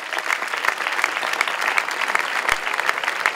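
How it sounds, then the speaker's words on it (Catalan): A concert audience gives a dense, steady round of applause for a local music association band, a full wash of many hands clapping at once with no voices above it. "Un fort aplaudiment!"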